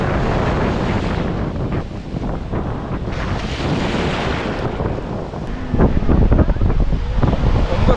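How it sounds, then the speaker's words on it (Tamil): Ocean waves wash in at Thiruvanmiyur beach under heavy wind buffeting the microphone, a continuous rushing surf that swells louder near the end. "அஞ்சு அலை ஆறு அலை அட்ட டைமில் மாறி மாறி வருது"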